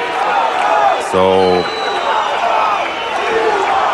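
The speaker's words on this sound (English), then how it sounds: "as you can hear, they're shouting, "We want more."" Concert crowd shouting a chant for an encore after a blues show, a dense roar of many voices throughout, with someone talking over it and a brief tone near the start.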